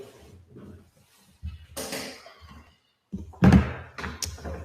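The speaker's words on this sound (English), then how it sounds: "Can you close the door?" An interior door closes with a solid thunk after a request to shut it, a short loud impact following quieter room noise and a couple of softer bumps nearby.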